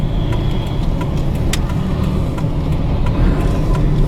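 A Daihatsu Ayla type X car on a test drive, with a steady low engine and road rumble throughout, no talk over it.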